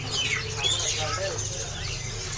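A red-eyed drongo calls at a busy bird market: quick high chirps and whistled notes sit over a steady low hum of the crowd, loud and close.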